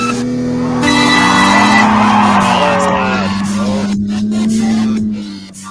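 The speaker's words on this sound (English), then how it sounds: "This is kind of a short drag race." Video game cars in a short drag race, engines droning loudly with rising whines and tire squeal, continuous for several seconds before fading slightly at the end.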